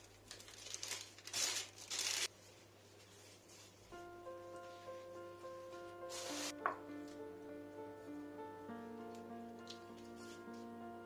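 A package of ready-made baklava yufka pastry sheets crinkles in a home kitchen in a few short rustling bursts, first near the start and again later, over quiet sustained musical tones.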